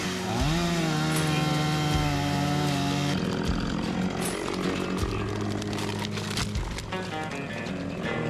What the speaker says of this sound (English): Get the Sawzall up here, clear some of these trees.